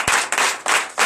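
A Sunday church service congregation in Benin claps, loud sharp bursts in an uneven rhythm, with no talk over it.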